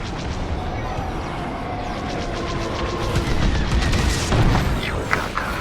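Enemy laser fire and explosions fill a space battle in the Star Wars Squadrons video game, a dense, continuous barrage of booms and zapping blasts with overlapping speech.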